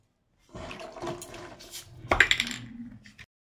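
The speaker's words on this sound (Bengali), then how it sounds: "আমরা এবার তেঁতুলগুলোকে এবার ভালো করে জল দিয়ে ধুয়ে নেব দেখুন" Green tamarinds washed in water in a bowl, giving short splashes, sloshing and light knocks against the vessel, close and moderately quiet, with a louder slosh midway.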